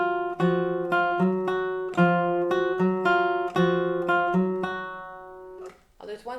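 A guitar exercise with triplets in the upper voice is picked steadily and close up, with a repeating bass note under rapid upper notes, ending in a brief fading strum.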